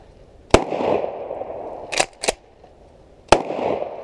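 Sharp, loud shotgun reports outdoors from a Mossberg 500 Compact Cruiser firing ball rounds: one blast, a quick pair, then another, each followed by a short echoing tail.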